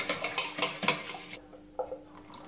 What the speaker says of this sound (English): And then give it a good stir to combine everything.